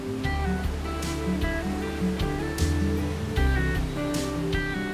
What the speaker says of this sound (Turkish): şelaleden her saat yaklaşık 500 metreküp su akmaktadır